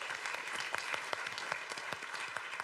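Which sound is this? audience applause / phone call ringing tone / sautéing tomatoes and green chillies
audience applause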